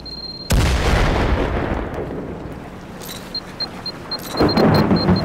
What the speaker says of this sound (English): throwing grenades on you.